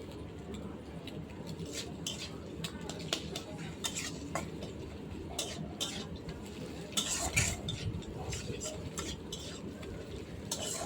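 Noodle ingredients stirred in a pan at home, a steady run of scraping and clinking from the utensil against metal, with faint sizzling and some background voice underneath throughout.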